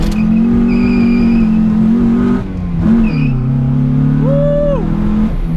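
Acura Integra accelerating hard on a street pull, its engine climbing through the revs in a loud, close drone, dipping briefly at a gear change and then pulling up again.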